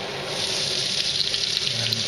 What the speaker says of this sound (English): notice the sizzle